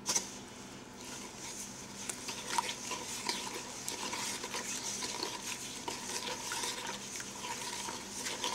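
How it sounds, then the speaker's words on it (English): A spoon stirs milk into a milk tart mixture in a pot or bowl, making soft, continuous swishing with light scrapes and clinks that stay quiet and close throughout. "be careful you don't stir too fast and splash the milk everywhere, but you want to get those lumps out"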